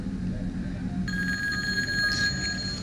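In the Silent House part 2 horror game, a telephone starts ringing about a second in and keeps ringing steadily and loudly over a low, dim background hum.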